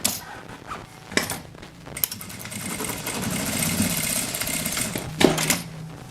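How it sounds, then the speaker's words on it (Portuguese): A sewing machine runs a straight seam with backstitching, its motor whirring in bursts broken by short pauses and clunks as direction changes, close and fairly loud. "Vamos passar uma costura reta dando retrocesso no começo e no final."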